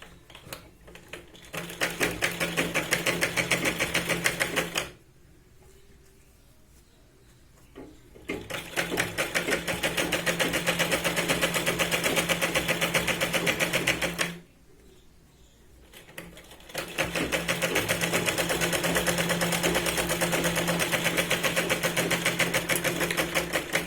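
A sewing machine stitches a katori blouse in long, steady runs of rapid mechanical whirring, loud and close, stopping twice for a few seconds of near-quiet between bursts.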